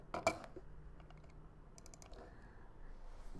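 A few quick keystrokes on a computer keyboard, soft close clicks with a brief burst at the start and scattered taps after, quiet and without talk.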